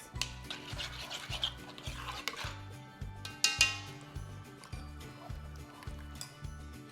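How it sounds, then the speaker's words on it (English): Cream is stirred through malai kofta sauce in a pan, with a steady rhythmic scraping of the spoon against the pan, faint liquid swishing and a low repeating hum underneath. "A bit of cream. Stir it through."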